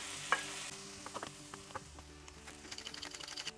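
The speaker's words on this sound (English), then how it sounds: "Now we add the onion, the tomato, and a good deal of pepper." Onion, tomato and pepper are added to a pan for Bahamian crack conch, giving a faint sizzle with tapping, scraping stirs that grow busier toward the end.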